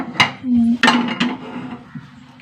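Cooked lentils scraped from a cooking pot into a clay pot, giving a few short knocking clinks and scrapes of a spoon against the pot rims, close and fairly loud, with a steady low hum underneath.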